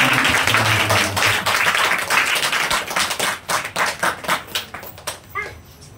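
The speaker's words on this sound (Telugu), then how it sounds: "చప్పట్లు" A church congregation claps together at a Telugu worship service, a thick burst of applause that thins into separate, rhythmic claps toward the end, with no speech over it.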